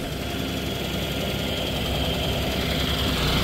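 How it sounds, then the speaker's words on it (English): A Loadmac 855 pantograph forklift runs steadily nearby, its engine giving a constant rough drone with a low rumbling vibration as the mast works, no voices over it. "Now we'll show you the mast carriage going in and out."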